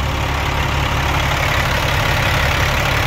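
Caterpillar C13 diesel engine idling at operating temperature in a 2006 Sterling heavy-spec flatbed truck, a loud, steady low rumble with an even throbbing beat throughout, heard close and alone.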